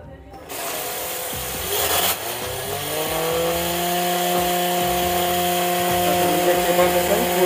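Homemade speed boat motor revving up to full speed with a steady high whine, loud and close, sustained after a brief rattling start.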